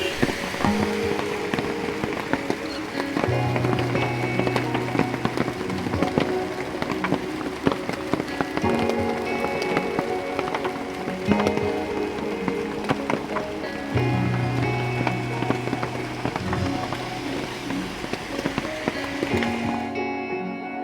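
Hail and monsoon rain falling in Nainital, a dense continuous patter of drops striking hard surfaces close by, steady and loud throughout with scattered sharper impacts.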